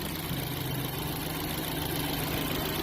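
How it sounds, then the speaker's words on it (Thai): A steady, low BMW car engine idle hums evenly throughout, with a constant mechanical drone and no talking. "ตอนนี้ทดสอบเครื่องยนต์ปกติครับ"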